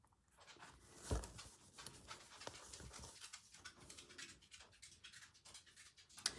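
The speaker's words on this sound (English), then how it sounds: "If you can hear footsteps, that's little Maggie dog. She's come to see what's going on" A small dog pants close by, quick rhythmic breaths with light paw steps and a brief louder knock early on, heard in a quiet room during hand embroidery work.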